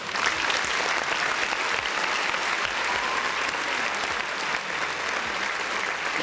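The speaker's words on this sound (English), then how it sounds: "Round of applause for the people in the chat" Steady, dense applause from a crowd fills the whole stretch at an even level, with no voices breaking through.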